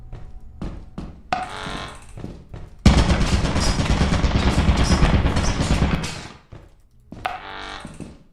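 Video game turrets fire in short bursts, then in a long, loud continuous stream of rapid shots that cuts off before a few final bursts.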